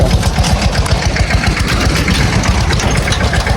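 A steady, rumbling engine idles close by, its low chugging pulse continuous throughout with no voices.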